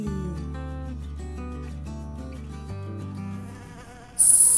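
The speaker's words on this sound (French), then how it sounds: "C'est l'abeille!" A cartoon-style bee buzzing in a children's garden animal story, a steady insect drone running beneath bright background music throughout, with a sudden sharp high burst near the end.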